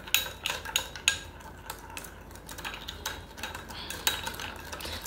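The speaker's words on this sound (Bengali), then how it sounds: "চিনিটা যে পর্যন্ত না গলবে এ পর্যন্ত আপনি নেড়ে সুন্দর করে" Spoon stirring a sugar mixture in a pot until it melts, light scraping and clinking taps in an irregular rhythm, close and fairly quiet.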